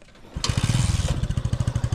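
A motorcycle engine runs close by in steady, rhythmic pulses, its loud chugging throb continuing without a break and no voices over it.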